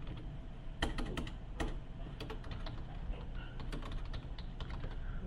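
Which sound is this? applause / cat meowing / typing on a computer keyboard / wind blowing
typing on a computer keyboard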